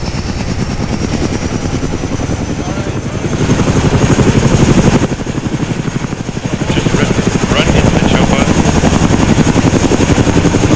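A helicopter in the military game ArmA 3 thumps loudly and close with a rapid, steady rotor chop that swells in intensity, with players talking faintly underneath.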